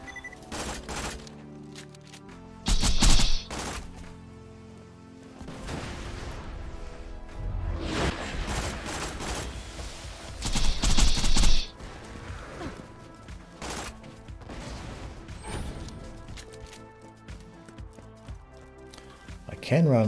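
Bursts of gunfire in the shooter game Borderlands 2 during the Digistruct Peak raid, with loud volleys near 3 and 11 seconds among scattered shots and whooshes, under someone talking.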